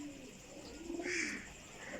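Pigeons coo softly and steadily, a low burbling call with a brief brighter chirp near the middle, close by and with no voices over it.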